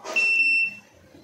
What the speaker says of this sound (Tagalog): Ayan, buzzer.